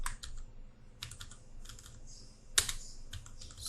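Computer keyboard typing a short search query, several quick bursts of keystrokes with brief pauses between them, close and fairly quiet, with no talk.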